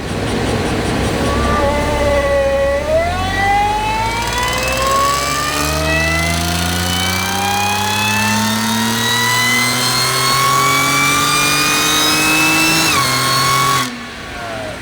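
A Stage 2 supercharged Audi SQ5 with an upgraded pulley and intercooler runs on 91-octane fuel on a dyno. The loud engine note climbs steadily through the gears over a long pull, then drops away at the end, with no talking.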